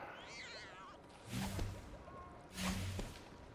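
A cat character meows twice in Lego Harry Potter Years 1-4, two short mid-loud calls about a second apart over a soft game backdrop.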